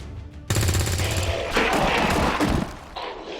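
Rapid bursts of automatic gunfire from the video game XCOM 2, loud and close, with heavy thumping impacts after a brief quiet start.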